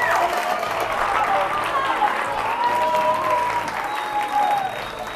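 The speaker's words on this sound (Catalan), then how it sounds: "Doncs aplaudim aquest centre" Studio audience applauding a winning school team on a Catalan spelling quiz show, a long, steady round of clapping with some cheering and faint voices underneath, easing slightly near the end.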